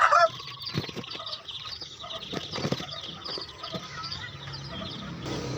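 Two-week-old Rhode Island Red chicks in a brooder give brief chirps and peeps, along with wing flutters and shuffling, at moderate volume nearby.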